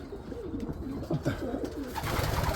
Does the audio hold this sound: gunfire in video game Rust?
no